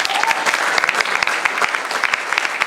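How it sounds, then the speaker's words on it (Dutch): An audience at a live show claps steadily throughout, a dense continuous applause close by with no voices on top. "Geef hem een groot applaus."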